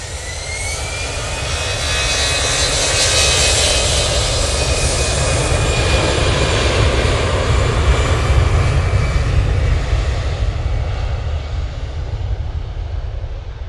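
A Star Alliance airliner departs Manchester Airport, its jet engines roaring loud and steady for the whole stretch, a broad sustained rumble that swells slightly near the middle and holds on.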